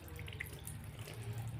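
Hands are washed under a running kitchen tap, giving a faint, steady trickle and splash. The washing is brief and sounds close.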